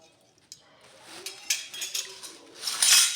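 Small and large metal kitchen spatulas clink and scrape as they are handled, sparse light taps at first building into denser metallic rattling toward the end.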